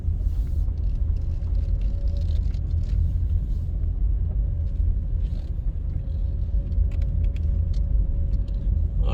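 A car drives through the Kingston Wharves container terminal in Kingston, its engine a steady, close rumble throughout with faint road noise and no talking.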